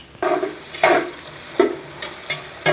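Onions browning in a pan for nihari, with a low steady sizzle and several louder scraping stirs at irregular intervals, close up.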